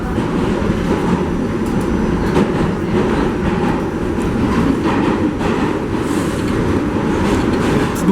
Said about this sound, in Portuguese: Dentro do metrô agora.